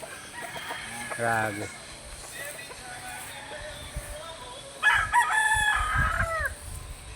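A rooster crows loudly near the start and again later, with hens clucking around it and people talking nearby in a farmyard.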